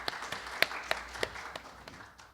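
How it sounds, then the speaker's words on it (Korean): Sparse, scattered hand claps from a small audience at the opening ceremony of a medical forum, several sharp claps spread out and fading into quiet within a couple of seconds. "큰 박수로 모시겠습니다."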